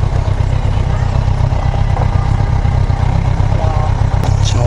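A steady low rumble of many idling motorcycle engines, close and loud, with a few faint voices.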